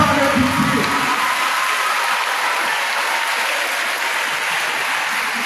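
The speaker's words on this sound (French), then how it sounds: "On applaudit pour le Seigneur qui nous a préservés pendant les vacances" A congregation of school pupils bursts into sustained applause at a back-to-school mass in a parish church. The clapping is dense, loud and even, with a few voices heard in the first second.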